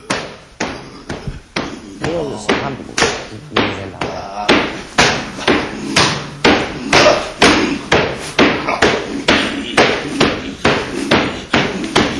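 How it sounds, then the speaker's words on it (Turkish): A haka dance performed as a demonstration, with a steady run of loud rhythmic thumps and slaps from stomping and body slapping, close and repeating for the whole stretch. "sana bir örnek haka dansı yapacağım"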